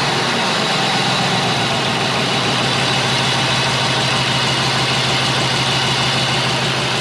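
A Cadillac Deville engine with a misfire idles steadily at close range, a loud, continuous rumble with a faint uneven pulse and no voices over it.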